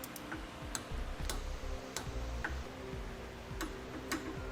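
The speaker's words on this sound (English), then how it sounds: "And now we'll torque those bolts to the amount specified in the instructions." Torque wrench tightening trailer hitch bolts on a 2013 Toyota Sienna, giving several sharp separate clicks over a low background hum.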